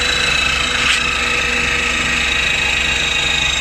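The motor of a 12-volt, 5-ton electric car jack drones steadily and loudly as it lifts a car wheel off the ground, with one faint knock early on.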